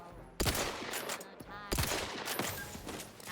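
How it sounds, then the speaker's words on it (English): Gunfire in the video game Outer Worlds 2 comes as several sharp bursts spread across a few seconds, moderately loud, under a faint murmur of game ambience. "What are they shooting at?"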